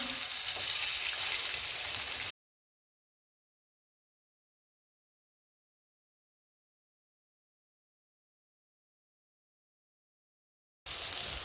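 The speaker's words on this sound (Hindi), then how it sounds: "ये देखें, ऑयल मैंने गर्म कर लिया, इसको शैलो फ्राई करेंगे।" Potato and besan snacks shallow-frying in hot oil over medium-high flame, giving a close, steady crackling sizzle for about two seconds, then a long dead silence, before the sizzle returns briefly at the end.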